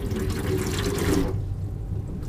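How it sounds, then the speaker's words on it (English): Water runs from a tap in a truck's bathroom, a steady splashing stream close by that cuts off abruptly partway through, leaving quiet room tone. "It's now got running water in it"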